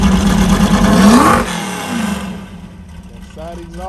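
A Mopar car engine revs hard and loud through an open side exhaust, then drops back to a rumbling idle as a voice briefly speaks.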